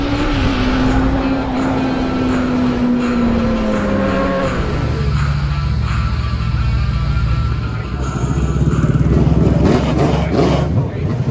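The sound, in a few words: turbo street tire drag motorcycle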